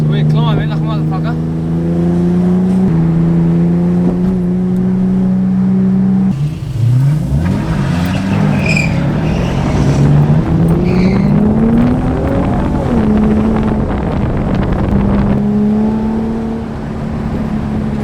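A car engine revs hard and climbs in pitch as it pulls up a steep hill road, close and loud throughout, with shifts in engine tone and people talking over it.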